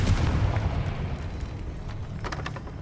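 Confringo blasting spell in Hogwarts Legacy, a heavy booming explosion that hits at once and rumbles low, followed by a few crackling debris bursts near the end.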